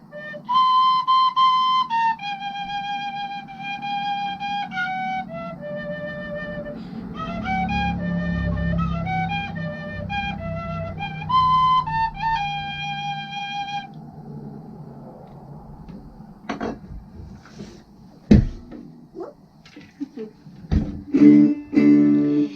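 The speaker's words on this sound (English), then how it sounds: "And this is an Irish penny whistle. It's made of tin." A bright Irish tin penny whistle plays a lively jig-like tune of quick, stepping notes over a low background hum, then stops, leaving scattered knocks and handling noises.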